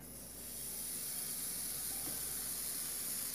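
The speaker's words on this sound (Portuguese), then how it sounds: "Eu vou colocar metade de uma colher para eu fritar o meu bacon." Bacon frying in margarine in a pan, a steady broadband sizzling hiss that swells slightly and then holds constant, moderately quiet.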